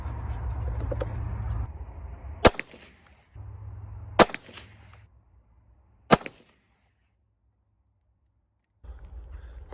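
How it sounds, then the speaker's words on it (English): Three sharp, loud gunshots from a Canik TP9 pistol firing Federal 115 grain full metal jacket rounds at an outdoor range, spaced about two seconds apart, each with a short echoing tail over a low rumbling background. "So I'm shooting at a full 25 yards on this."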